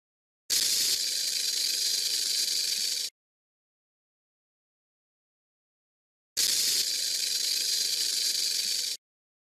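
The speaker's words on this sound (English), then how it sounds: "Rattlesnake." A rattlesnake rattles in two separate bursts of dry, buzzing hiss, each lasting about two and a half seconds and separated by complete silence, close and steady in loudness.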